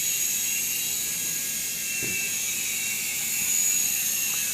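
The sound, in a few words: Syma S107H RC toy helicopter hovering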